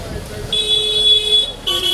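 Electric vehicle horns being tested at a horn stall in Mumbai's Chor Bazaar market: a loud, close, shrill two-tone honk held for about a second, then sounded again briefly, over faint background chatter.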